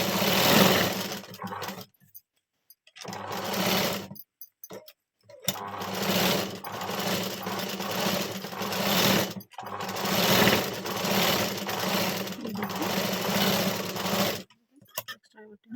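An electric sewing machine stitches around a puff sleeve blouse in several bursts, a close steady whirring hum that runs for a few seconds, stops briefly, and starts again, with short silent gaps between runs.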